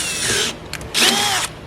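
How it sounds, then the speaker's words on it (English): A power drill bores a hole for rivet nuts during a tube rear build on a 350Z, two close, loud whining bursts with a short stuttering pulse of the trigger between them. "So I don't want to drill it"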